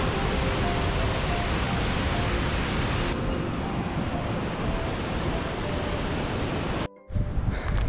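A mountain river in the Caucasus forest rushes beneath a bridge in a constant broadband roar, loud and near, briefly cut off before resuming for the final moment.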